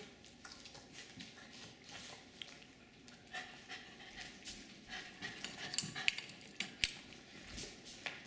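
Jack Russell terriers panting rapidly while begging for bacon, quiet and close, with faint clicks and small clatters scattered throughout.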